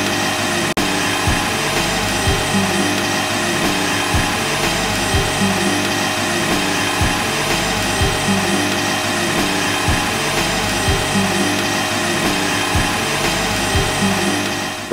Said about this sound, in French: On va ralentir notre batteur pour que ça ne saute pas partout et pour que le beurre puisse s'intégrer